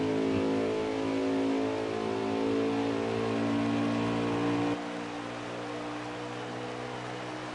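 A stock car in an Xfinity Series playoff race at Homestead revs hard at high RPM, then the throttle lifts off and the engine note drops and softens for the remaining seconds.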